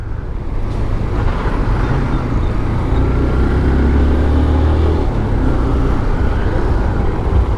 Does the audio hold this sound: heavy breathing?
no